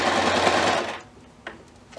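A sewing machine stitches a side seam on a fabric pouch, a fast loud whirring run for about a second that stops abruptly, followed by faint clicks and handling.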